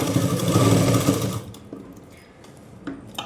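A sewing machine runs in a fast continuous whir while edge-stitching a saree petticoat, then stops abruptly, leaving quieter handling clicks.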